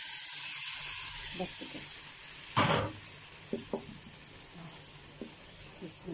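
Tomatoes hitting a hot pan for Egyptian fatteh, a soft steady sizzle and hiss running throughout, with a sharp burst of sputtering midway and scattered light clinks of a utensil, under brief speech.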